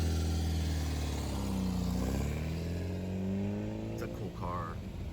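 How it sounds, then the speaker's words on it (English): A red 1973–74 Porsche 914 roadster engine idles and revs nearby, a low throbbing drone that rises and falls, with people talking over it. "It's a cool car. Yeah, they don't go real fast. It's a Porsche."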